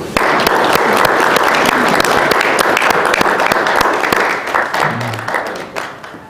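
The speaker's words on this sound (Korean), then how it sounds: "여러분 박수 한번 쳐주시죠" Audience applause at a Korean shared-growth forum, many hands clapping in a thick, even roar that holds steady before thinning and fading out toward the end, with a brief voice near the close.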